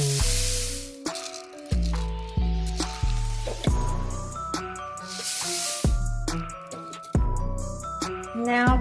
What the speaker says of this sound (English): Now to a large bowl, we're going to add in our Rice Krispie cereal.